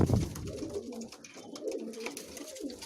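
Racing and fancy pigeons coo softly in a loft. Low, rolling calls repeat quietly, with a brief louder sound right at the start.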